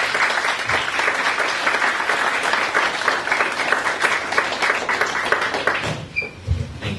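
An audience at a festival talk on Indigenous narrative models applauds with sustained, dense clapping that fades out near the end.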